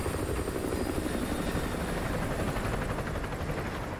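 An enemy patrol helicopter in the video game Call of Duty: Modern Warfare 2 Remastered gives a loud, continuous rotor chop and engine drone that fills the whole stretch, with no talk over it.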